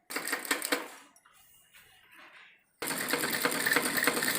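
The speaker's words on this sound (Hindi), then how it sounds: "तो इस तरह से करके हम इसको इस पर सिलाई लगा देंगे आधे इंच की।" Sewing machine stitching a half-inch seam on salwar fabric pieces, a rapid, loud mechanical whirr that runs, pauses briefly for quieter handling of the cloth, then resumes steadily, with no talk over it.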